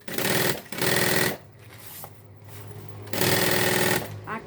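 A sewing machine stitching the lining of a suitcase-style handbag runs in loud, steady bursts close by, stopping and restarting with quiet pauses between runs.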